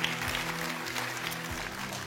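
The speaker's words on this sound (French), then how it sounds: "on applaudit les candidats" Studio audience applause for the contestants of the French TV quiz show Still Standing, a steady mid-level clatter of clapping that fills the short moment, with faint tonal music held underneath.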